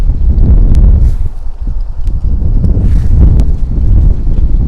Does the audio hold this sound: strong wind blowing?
yes